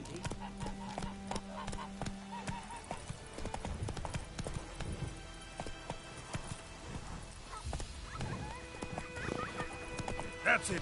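Roach the horse gallops in The Witcher 3, rapid hoof clip-clops drumming steadily throughout, with a whinny late on, under game ambience and occasional speech.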